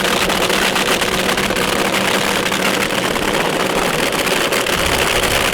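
Drag race car engine rumbling steadily as the car is pulled into forward gear at a nighttime drag racing event, a loud, continuous broadband roar with no clear pauses.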